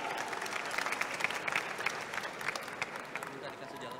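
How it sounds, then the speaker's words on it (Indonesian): A lively crowd at a public Q&A event led by a host claps together, a moderate, steady patter of many hands heard at a slight distance for several seconds. "Tepuk tangan dulu dong"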